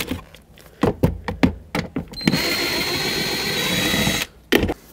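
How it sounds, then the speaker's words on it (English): Two 10 mm bolts come out of a Chevrolet Express during an ignition coil job: a series of sharp clicks and knocks, then a sustained whirring burst from a power driver, then more close clicks. "there's going to be two 10 millimeter bolts right behind it. Remove both."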